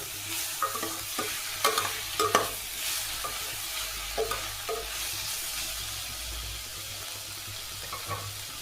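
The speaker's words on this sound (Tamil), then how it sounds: "இப்போ தக்காளி வதங்கிடுச்சு ஓரளவுக்கு." Tomatoes softening in a hot pan for a chapati side dish, a gentle sizzle with intermittent spatula scrapes and clinks against the pan, close with a steady low hum underneath.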